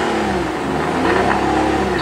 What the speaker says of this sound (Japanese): エンジン回してみましょう